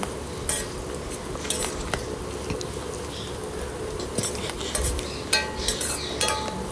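Bitter gourd pieces being stirred and fried in a pan, with a spoon clinking and scraping against the metal over a low sizzle, in irregular bursts up close.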